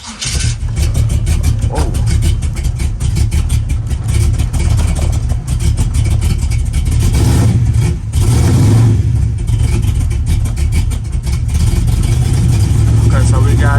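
A car engine cranks, catches and revs repeatedly, loud and close, with the idle rising and falling between throttle blips while someone speaks briefly.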